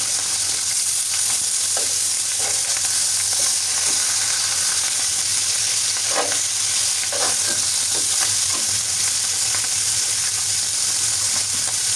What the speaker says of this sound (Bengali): মাছগুলো আমি প্রথমে খুব ভালোভাবে ভেজে নিচ্ছি